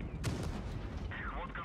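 Tank cannon firing in the Tanks Blitz game, a sharp booming blast followed by a second quick report and rumbling battle noise, brief and close, with a faint voice underneath.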